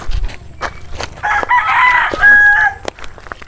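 A rooster valued for fighting crows once loudly and close by, a strained, wavering call in the middle of the clip, with scattered clucks and short noises around it.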